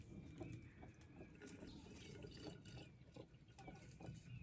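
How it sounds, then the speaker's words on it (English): Water poured onto fermenting chicken feed in a container, a steady faint liquid trickle and gurgle running throughout with small splashes and drips. "So I'm going to add more water"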